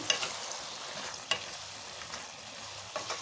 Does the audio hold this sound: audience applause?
no